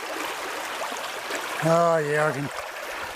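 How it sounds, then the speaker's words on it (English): A flooded small trout stream rushes steadily, a broad wash of flowing water close by, briefly interrupted when someone speaks a few words over it. "that rain's brought all this crap down, and this river's flooded"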